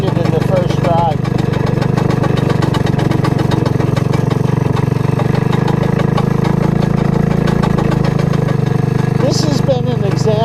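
A modified ATC 185 all-terrain vehicle engine runs at a steady idle, a loud, continuous close-up mechanical drone throughout.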